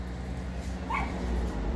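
A Tibetan mastiff gives one short, faint yelp midway over a low, steady background hum.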